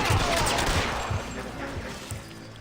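Gunfire in L.A. Noire, a rapid run of loud, close shots with rumbling low thuds that gradually fade over a couple of seconds.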